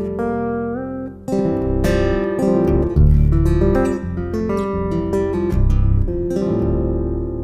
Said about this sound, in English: It's a specially made humbucker for acoustic guitars.